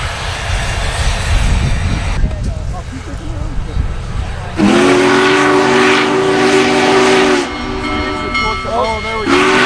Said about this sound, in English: catch the locomotive coming up over the grade and heading down